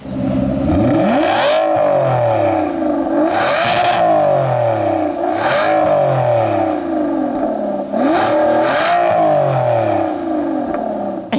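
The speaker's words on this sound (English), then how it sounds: "the exhaust note is unbelievable. Sounds so good." An Aston Martin Vanquish Zagato Shooting Brake engine revs repeatedly, exhaust note rising and falling in several sharp bursts over a steady idle, loud and close.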